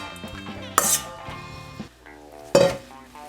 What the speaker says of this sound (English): And you mix that, fold it in.